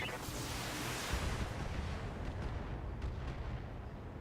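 Heavy cannon fire and explosions from a BattleTech game, a barrage striking an Ultra Cannon 5 carrier, as a dense continuous rumble of booms with sharper cracks on top, loud and sustained with no pauses.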